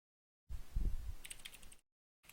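A computer keyboard is typed on in one short burst of close, soft keystrokes, followed by silence and a faint final click.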